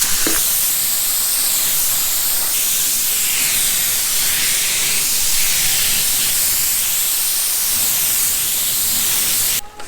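Spray gun applying a primer coat to a semi truck, a loud continuous hiss of atomized spray close by that runs steadily before cutting off at the end.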